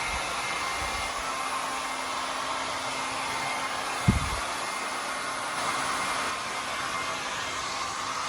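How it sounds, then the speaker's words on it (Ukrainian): A hair dryer blows with a steady, breathy whir throughout, with a brief thump near the middle; no one speaks. "Є фен, можна посушити волосся"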